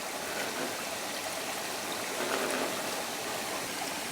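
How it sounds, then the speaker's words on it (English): Cold, spring-fed stream water flows steadily in a broad, even hiss and trickle, close and continuous with no voices. "This must be a lot of spring-fed water coming in here."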